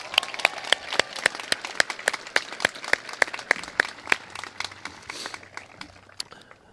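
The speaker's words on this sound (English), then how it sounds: "So let's give one more round of applause for the valedictorians and salutatorians." An audience at a high school graduation claps, with sharp individual handclaps sounding loudly above a softer crowd patter. The clapping keeps a fairly steady rhythm and tapers slightly toward the end.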